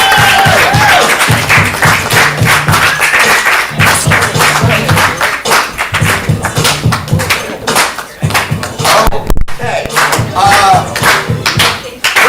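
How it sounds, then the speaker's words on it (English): A live audience at a ComedySportz improv comedy show gives loud, dense applause that runs the whole time, with continuous clapping, some thumps and crowd voices mixed in. "welcome back to some applause"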